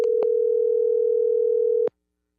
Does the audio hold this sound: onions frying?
no